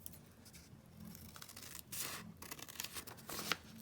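Paper pages are trimmed for a craft project, with faint scissor snips and soft crisp cutting and rustling sounds close by in a quiet room.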